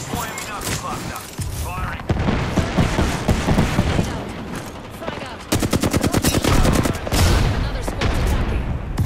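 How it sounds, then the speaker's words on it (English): Loud, close automatic gunfire from the game Apex Legends, bursts and rapid rattling volleys with booming impacts, a player's voice talking over the shooting. "Guys are shooting at me."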